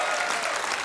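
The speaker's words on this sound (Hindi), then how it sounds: "जोरदार तालियां इसके लिए" Dense, steady applause from a studio audience on a TV comedy show, loud and sustained throughout with no pauses.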